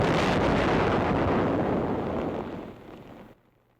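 A large World War II mortar shell fired on an instantaneous fuse bursts in one loud, broad roar that rumbles on and trails off over about three seconds before cutting out, with wind buffeting the microphone.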